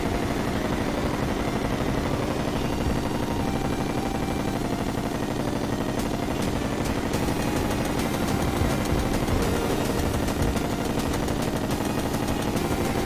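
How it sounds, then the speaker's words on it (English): Rapid, continuous bullet fire from a Terraria boss fight against the Moon Lord in Expert Mode, a dense rattling barrage of shots that keeps going the whole time with no talk over it. "Anyone getting annoyed by that bullet sound?"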